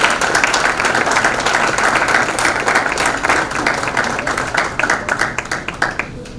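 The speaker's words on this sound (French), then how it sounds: "Sous vos applaudissements, mesdames et messieurs." Loud, dense applause from an audience at an oratory and mock-trial debate event in a hotel, rising to a full roar and then thinning into scattered claps near the end.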